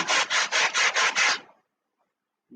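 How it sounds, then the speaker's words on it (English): Balsa wood formers on a Sig Kougar model aircraft turtledeck are sanded by hand in six quick, even back-and-forth strokes, close and loud, followed by silence. "So I'm going to sand these down to meet"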